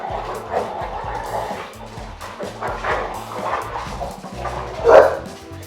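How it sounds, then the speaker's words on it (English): Two dogs playing indoors, with repeated yips, barks and short whimpers in an uneven, busy rhythm, fairly close and moderately loud, with no voices over them. "I apologize if you can hear Tennessee and Jameson playing in the background."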